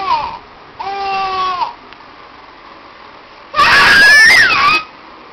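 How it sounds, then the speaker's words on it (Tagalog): A young child screams repeatedly in loud, high-pitched bursts: a short shriek at the start, a sustained wavering cry, then after a pause a longer, louder piercing scream, all close to the microphone. "Oy, tili ka ng tili dyan."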